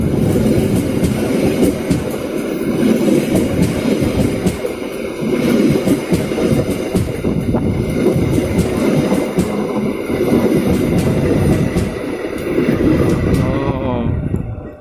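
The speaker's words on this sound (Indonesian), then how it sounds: "Argo Parayangan masuk stasiun Bekasi melewati JPL 81." The Argo Parahyangan passenger train enters Bekasi station past level crossing JPL 81 with a loud, close, continuous rumble and rattling wheel clatter that holds throughout.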